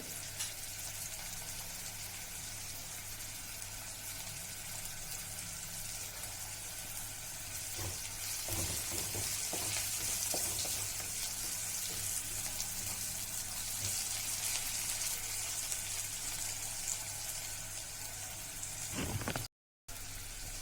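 Cumin seeds and red chilli frying in hot oil for a stuffed brinjal curry, a steady broadband sizzle that holds for about twenty seconds with a few brief spoon scrapes in the middle and a short break near the end.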